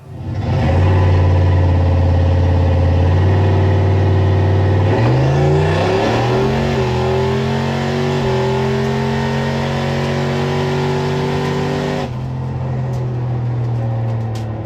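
Turbo Ford Foxbody Mustang making a drag strip pass, a loud engine climbing in pitch through several gear changes, then a sudden drop as it lifts near the end, with no talking.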